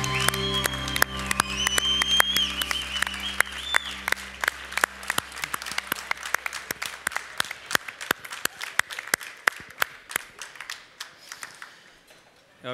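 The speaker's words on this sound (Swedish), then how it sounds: "Stora applåder, Daniel Myhler." A live audience at a cooking competition applauds a chef as his lamb dish is finished; loud, dense clapping that thins into sparser, separate claps and fades out near the end, over tonal music at the start.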